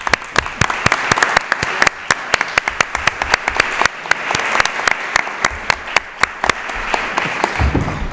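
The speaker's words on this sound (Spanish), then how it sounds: "entre todos hoy le podamos dar un aplauso de reconocimiento" Applause from an audience at a recognition event, a loud crowd clapping with sharp individual claps standing out over dense patter, steady for about eight seconds before fading.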